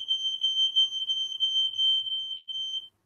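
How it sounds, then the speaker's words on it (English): A gas test alarm on a boat sounds as a loud, shrill continuous electronic tone, pulsing slightly and stopping abruptly near the end, with nothing else audible. "Yeah, I thought fire alarm were going off."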